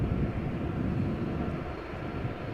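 Airplane on the runway at Amsterdam Schiphol Airport, a low, steady engine rumble heard from afar, broad and even with no voices over it.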